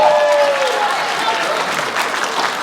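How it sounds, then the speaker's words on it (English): An audience at the Queens Tech & Career Expo applauds, a dense, sustained clatter of many hands clapping indoors, loud and close, with a voice briefly audible over it. "Give yourselves a round of applause"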